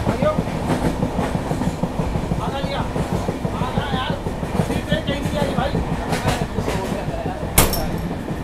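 A train rolls along railway tracks near Salem railway station, a steady loud rumble with rhythmic clickety-clack wheel beats and occasional metallic clinks. A single sharp knock rings out near the end, with faint indistinct voices in the background.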